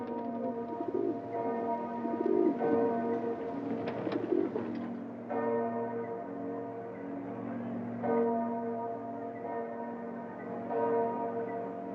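Pigeons coo and flutter in a Venice square, soft and scattered against a steady ambient hum, while a bell rings in the distance with sustained tones.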